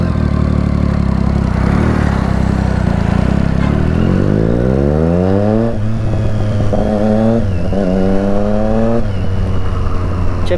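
Triumph Street Triple motorcycle with new bar ends and mirrors removed, ridden up through the gears: engine pitch climbs and drops in repeated revving sweeps, loud and close, with no talk.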